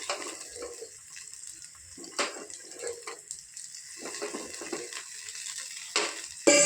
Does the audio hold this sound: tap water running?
yes